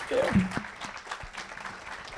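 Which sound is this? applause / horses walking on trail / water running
applause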